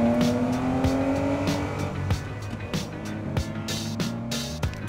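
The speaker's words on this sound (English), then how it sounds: "I'm driving a 1968 911L, Porsche factory race car built for the Trans Am racing series in 1968." A 1968 Porsche 911L factory Trans Am race car engine revs hard through several gear changes, loud and close, its pitch climbing and dropping repeatedly with no voices over it.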